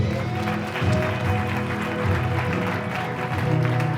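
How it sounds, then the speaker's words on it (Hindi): A congregation at a Hindi Christian service claps for the Lord over sustained tonal music or singing, the clapping a dense, moderately loud wash. "जोरदार हम ताली बजाएंगे प्रभु।"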